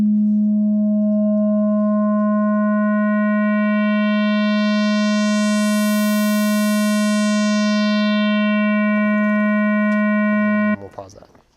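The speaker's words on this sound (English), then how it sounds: "if I drag it all the way down here, it sounds like a sine wave again" A pure sine test tone from an oscillator passes through a high-cut filter, holding a steady, loud, continuous hum for about eleven seconds as its upper overtones swell and then thin out again before it cuts off abruptly.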